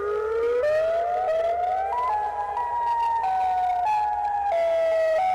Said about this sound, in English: favorite electric siren is definitely the Federal Signal Modulator